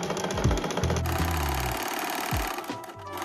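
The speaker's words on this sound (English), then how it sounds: "you put your footer back down, and then you just carry on sewing" A sewing machine zigzag-stitching fabric for a loungewear garment, a close, fast mechanical whirring with pitch shifting as the speed changes, briefly slowing and restarting near the end.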